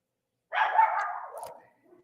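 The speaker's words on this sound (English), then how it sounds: "My dogs are barking." A single drawn-out dog bark or howl-like yelp rises suddenly out of silence, loud and close, then fades over about a second, followed by a faint trailing whimper.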